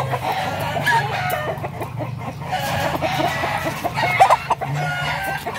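Several chickens cluck and crow repeatedly at close range, with uneven bursts of calls over a steady low background hum and no clear speech.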